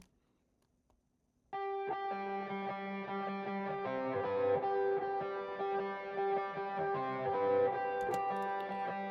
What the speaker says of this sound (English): And then we also have like this ARP, that's sort of like an Atmos kind of thing going on in the background